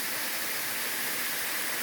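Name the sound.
waterfall flowing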